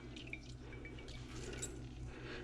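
Water drips and trickles as bloomed gelatin is squeezed out by hand in a kitchen while making panna cotta, faint and close, with a low steady hum underneath.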